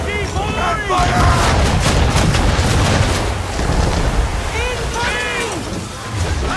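Ship cannons fire in broadsides during a naval battle in Assassin's Creed 3, loud booms rolling over steady ocean surf and creaking hull, with shouted crew voices over the gunfire.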